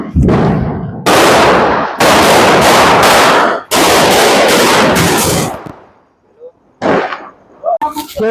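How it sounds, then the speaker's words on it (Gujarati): A lavingiya firecracker string bursts during Diwali celebrations in Jamnagar, with long, very loud, dense crackling volleys broken by short gaps. The bursts are followed by scattered pops and brief voices. "હવે લવિંગ જેની સર ફોડે છે"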